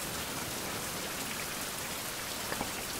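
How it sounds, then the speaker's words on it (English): Outdoor rain falling steadily on a lonely rock in a survival setting, forming an even, soft hiss of countless drops at a fairly low level without any pauses or voices. "Ah, it's raining."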